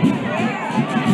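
Dense crowd at a Guinean national independence day celebration, a loud steady roar of many voices with children shouting and cheering swelling throughout.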